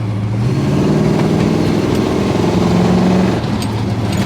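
A 1986 Chevy K-10 pickup's engine drones steadily and loudly while driving, a continuous low rumble that holds through the run and dips slightly near the end.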